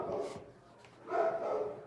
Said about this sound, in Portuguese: Tem um cachorro latindo lá fora,